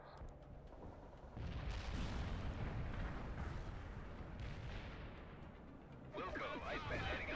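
An artillery strike fired at coordinates in the Cold War strategy game World in Conflict: heavy rumbling booms and a sustained roar of impacts, loud throughout, with radio voices near the end.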